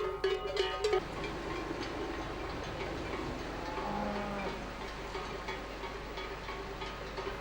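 A large herd of cattle being driven through a muddy Pyrenees valley, with low moos and the dull shuffle of many animals moving at a distance, a brief clatter near the start.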